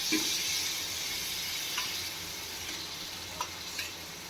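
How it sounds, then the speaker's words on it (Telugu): About two cups of curd cooking in a hot pan for fry-piece chicken pulao, giving a steady, fairly close sizzle with a few faint taps throughout and no talking. "అంత కర్డ్ నేను ఇప్పుడు దీంట్లో వేస్తున్నాను"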